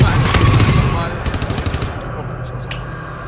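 Rapid automatic gunfire in the video game GTFO rattles in dense bursts, loud at first and thinning into scattered shots, while players talk over it.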